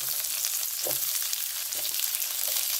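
Garlic and onions frying in a tablespoon of sunflower oil in a pan, a steady close sizzle with crackling hiss throughout and a few soft stirring clinks, no talking.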